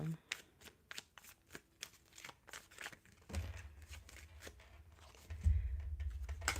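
Tarot cards shuffled by hand with rapid riffling flicks and soft slaps in quick bursts, close and clear, with a low rumbling thump toward the end.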